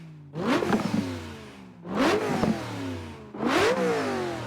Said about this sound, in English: Sounds like this one's got a Pro Charger on it.